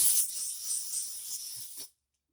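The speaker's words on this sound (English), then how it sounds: "Then what you need to do is actually just spray a light coat" A steady aerosol hiss of cooking spray into a cake pan sprays for nearly two seconds, close and continuous, then cuts off into silence.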